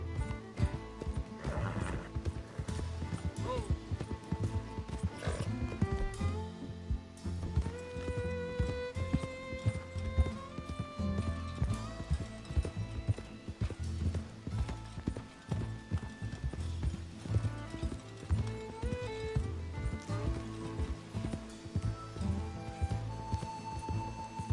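Horse gallops in Red Dead Redemption 2, with steady rhythmic hoofbeats that stay close and continuous throughout, alongside occasional snorts and whinnies over a bed of game music.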